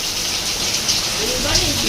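Heavy rain pours down in a dense, continuous hiss that stays loud and even throughout, with a voice faintly audible beneath it.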